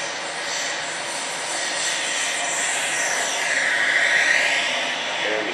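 A Southwest airplane lands with a steady, loud jet-engine roar that swells slightly as the engines spool up toward the end.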